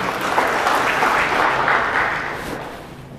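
A church congregation claps and cheers in praise, a dense continuous wash of applause that swells and then slowly fades over a few seconds.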